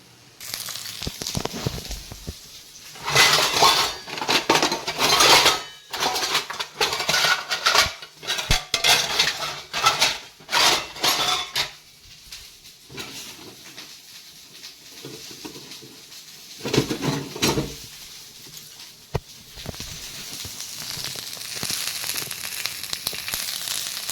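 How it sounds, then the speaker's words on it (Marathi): Masala for a drumstick-pod bhaji is roasted in a pan, with repeated bursts of metallic scraping and stirring over a soft sizzle. Quieter stretches fall between the louder spells of stirring. "चला आता आपण मसाला भाजून घेऊ."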